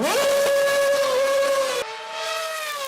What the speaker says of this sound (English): I'm more of a V10 kind of guy, but I do have to say this V8 also sounds pretty good.